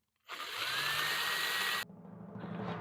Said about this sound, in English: I'm going to drill a hole right down the center of them